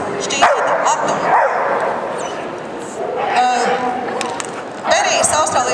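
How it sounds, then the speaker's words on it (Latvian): An Australian Shepherd barks excitedly while playing frisbee, with sharp yips and a few whimpers standing out over steady outdoor background noise and people talking. "viņam ir ļoti grūti savaldīt savu prieku, kas izpaužās ar riešanu"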